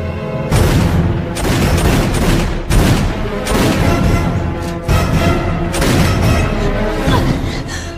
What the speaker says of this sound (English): Then who is doing all that shooting?